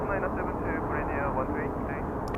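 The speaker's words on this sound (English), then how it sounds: "United Dreamliner rolling over there, runway 33 left." A United Boeing 787 Dreamliner rolls for takeoff on runway 33 left at Seoul Incheon, heard as a steady, loud, broad jet roar with wind noise over the microphone.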